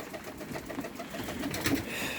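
Adana pigeons cooing softly in a loft, low murmuring coos repeating close by over a steady background hiss.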